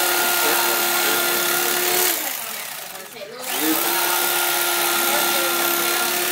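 An electric carving knife slices a turkey breast into thin slices. Its steady, buzzing whine runs loud and close, dips briefly in the middle, then resumes, with voices talking nearby.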